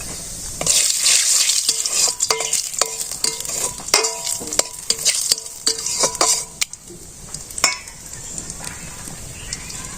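Bay leaf and cumin seeds crackle in hot oil, a bright steady sizzle overlaid by a quick run of repeated metal spoon clinks and scrapes against the pan, fading quieter toward the end.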